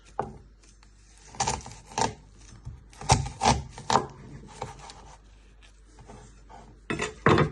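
A knife trims and chops an onion on a board, producing irregular dull thuds and scraping cuts that come in clusters, with quieter gaps between the strokes.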